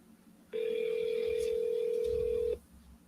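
An outgoing telephone call rings back with a single steady electronic tone lasting about two seconds, clear and close, with no talk over it.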